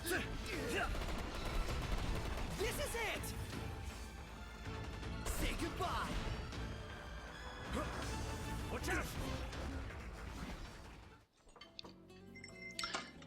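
Rapid gunfire from an ally's Trigger Happy technique in Final Fantasy XV, a dense barrage of shots and impacts layered with battle effects and voices, loud and continuous before cutting out near the end.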